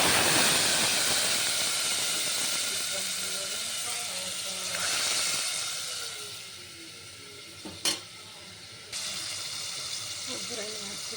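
A loud, continuous hiss and sizzle as a tempering of curry leaves in hot oil is poured into ridge gourd and lentil sambar, gradually fading with a brief clatter near the end.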